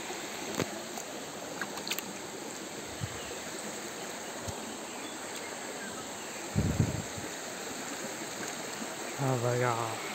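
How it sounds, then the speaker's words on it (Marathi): A waterfall near a Konkan village temple carries little water after light rain, giving a faint, steady, distant flowing hiss with a few scattered clicks and a brief voice near the end. "पाऊस कमी असल्यामुळे धबधब्याचं पाणी कमी आहे."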